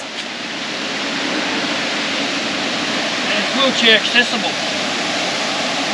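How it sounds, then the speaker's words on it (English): Steady rushing roar of waterfalls in Litchfield National Park, Northern Territory, after the rain, a close continuous wash of falling water with a person briefly talking over it. "You can see all these beautiful falls"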